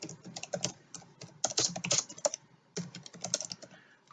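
Fingers tapping a computer keyboard to enter a short description, quick irregular bursts of close, quiet key clicks with brief pauses, no talking.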